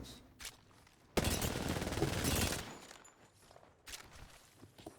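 Gunfire in the video game Apex Legends comes as a loud burst of rapid automatic shots lasting about a second, then fades to scattered quieter taps and footsteps.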